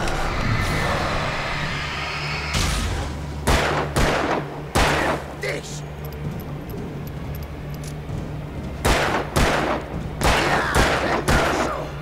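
Gunfire in the video game Alan Wake: repeated sharp shots in bursts over a low droning hum, loud and close, spread across the whole stretch with short gaps between volleys.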